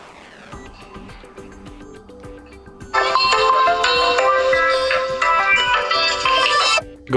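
A custom ringtone plays on a OnePlus Nord 2T phone: a soft melodic intro of a few seconds, then a brighter, louder tune that runs steadily for about four seconds before cutting off.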